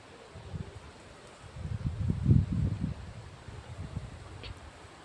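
Gusts of wind sweep through trees in uneven surges, building to a louder rush in the middle before easing off.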